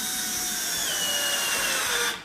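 A power drill drives fasteners into a wooden deck to mount a leveling post bracket, a loud continuous whirring run with a slight pitch shift, stopping abruptly at the end.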